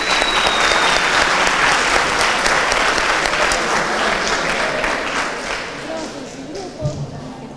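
Loud crowd applause at a 2015 fair in León, dense clapping sustained throughout and easing slightly toward the end, with a few people talking underneath.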